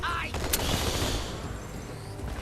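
Rapid bursts from an anti-aircraft cannon in Halo 2 rattle out in a loud, dense stream of gunfire, mixed with game noise and faint voices in the background.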